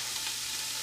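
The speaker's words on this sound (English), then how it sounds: "now I'm going to put my meat in" About 3 1/3 pounds of chili meat dropped into a hot pan, giving a loud, steady, close sizzle of frying with no voices over it.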